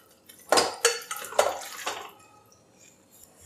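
Washed mutton pieces dropped into a pressure cooker for Chettinad mutton varuval, giving a few wet clattering knocks of meat against metal, close and moderately loud, with no talking.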